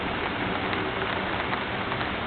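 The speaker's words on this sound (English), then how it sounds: "So sometimes I just sit on the deck and watch the rain." Steady rain falls outside and patters on surfaces near a deck, a continuous even hiss with no pauses and no talking.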